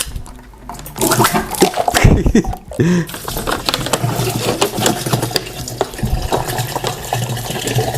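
Clean water splashes and pours steadily into a bucket, with a brief gurgling gush near the start and a continuous running stream afterward.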